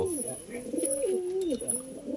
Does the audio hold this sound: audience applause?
no